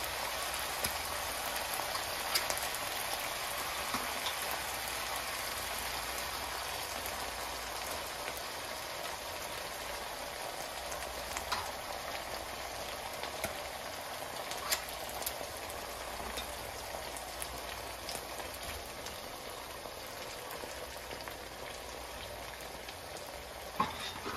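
Tinned mackerel cooking in a pot for a Jamaican-style dish gives off a steady, soft hiss and crackle that runs unbroken and fairly quiet, with no one talking.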